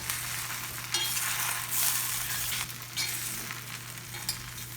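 Breadfruit being stirred with spice powders in a pan, a steady scraping and shuffling with a faint sizzle beneath, close up and continuous, with no one speaking.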